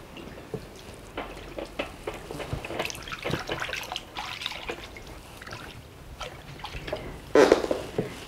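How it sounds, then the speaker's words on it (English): Water trickles and splashes as a foot is rinsed during a spa pedicure, a steady close pouring sound with small irregular drips and splashes throughout. "After this, we're going to rinse the foot."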